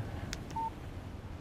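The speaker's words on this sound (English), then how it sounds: "Text message from Barry." Phone text message alert in Alan Wake: a single brief, clean electronic beep rising out of quiet background ambience.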